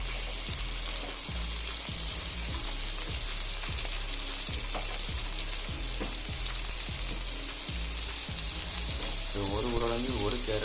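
Potatoes and carrot fry in a pan, giving a dense, steady sizzle with a regular series of stirring scrapes, close and constant, with a faint voice briefly near the end.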